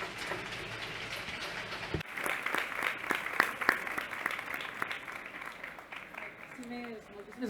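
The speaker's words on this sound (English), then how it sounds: "A very big applause to them and to you all." An audience at a digital-rights panel discussion claps for the panel members. The applause starts abruptly after a brief quiet lead-in and continues as dense, fairly soft clapping, with a voice briefly heard near the end.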